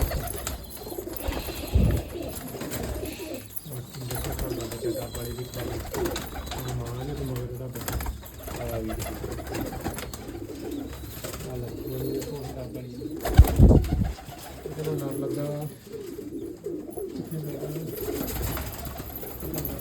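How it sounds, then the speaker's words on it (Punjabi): Young pigeons and adults coo repeatedly in low, rolling calls at close range, a continuous soft murmur of birds broken by a brief sharp knock, with someone talking intermittently over it. "ਕਿੱਦਾਂ ਦੇ ਲੱਗਦੇ ਕਬੂਤਰ ਤੁਹਾਨੂੰ"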